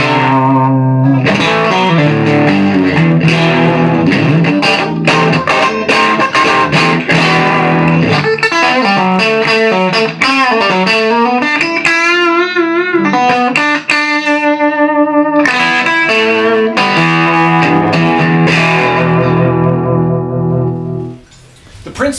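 A distorted electric guitar through a 1955 Fender Super tube amplifier plays a continuous lead line with bends and sustained notes, loud and gritty with a touch of reverb, ending briefly softer.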